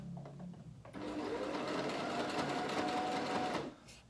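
A sewing machine stitches forward through fabric, its motor humming and needle chattering steadily for under three seconds, fairly close, then stopping.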